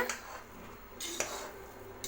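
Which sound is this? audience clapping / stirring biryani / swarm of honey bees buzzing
stirring biryani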